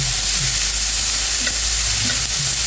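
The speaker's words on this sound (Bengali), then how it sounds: "তেলটা গরম হয়ে গেছে পেঁয়াজটা আর রসুনটা একসাথে দিয়ে হালকা একটু লবণ দিয়ে দিচ্ছি এটা আমি সুন্দর করে ভেজে নেব" Onion and garlic with a little salt frying in hot oil in a pan, a steady, loud, close sizzle that runs without a break, with faint stirring scrapes and no voices.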